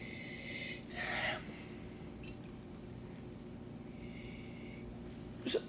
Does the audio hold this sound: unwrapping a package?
no